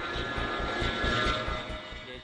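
An A-10 Tankbuster ground-attack jet flies past with a steady, moderately loud engine drone and a whining tone that swells in the middle and then eases off.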